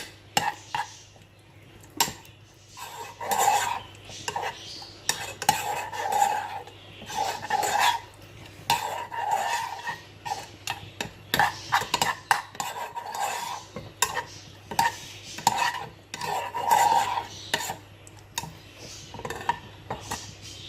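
Metal utensil scraping and clinking against a pan while stirring garlic, in irregular strokes, close up, with a faint steady hum underneath.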